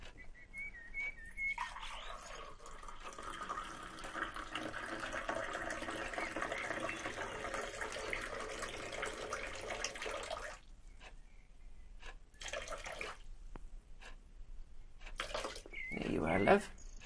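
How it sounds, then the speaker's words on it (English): Water runs from a kitchen tap in a steady, fairly loud rush for about nine seconds, preceded by a thin whistling tone, then cuts off and returns in a couple of short spurts. "I'll just fix you some tap water."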